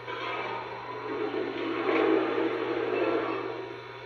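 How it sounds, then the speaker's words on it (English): A locomotive's water fill and blowdown give a steady rushing hiss of water and steam that swells louder in the middle and then eases off, continuous and alone. "And of course you have your water fill and blowdown sounds."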